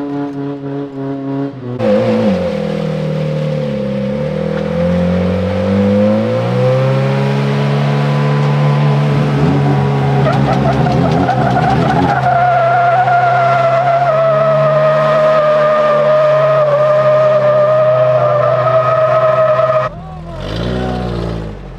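A car engine with its exhaust cut off revs hard and holds a loud, sustained roar with shifting pitch, then briefly drops before rising again near the end.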